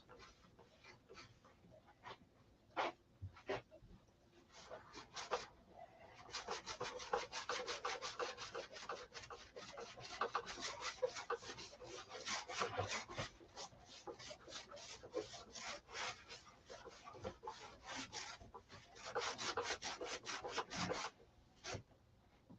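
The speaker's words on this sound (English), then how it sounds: "you are sanding it when you rub it with paper towels" Repeated rough rubbing and rasping strokes of paper towels on the metal of a SIG Magnum handgun, close up, in quick bursts with short pauses, no voices.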